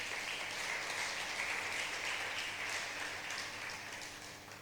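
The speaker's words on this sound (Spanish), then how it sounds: "Dele un aplauso al Señor." A church congregation gives a steady round of applause for the Lord during a Spanish-language worship service, a dense even clapping from a crowd that holds for several seconds, then slowly tapers off.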